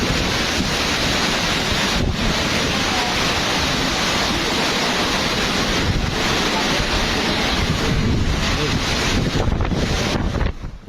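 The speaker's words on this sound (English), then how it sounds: "Super Typhoon Feng Wang battered the Philippines, sending massive waves crashing inland" Typhoon-force wind and massive waves hit the Philippine coastline, producing a constant roaring wall of wind buffeting the microphone and surf pounding nearby, loud and unbroken for the whole stretch.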